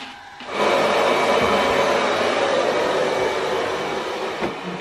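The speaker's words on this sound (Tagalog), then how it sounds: "Sinindi ko yung hair dryer." A steady, loud blowing hum of a hair dryer starts after a brief quiet moment and runs continuously without variation.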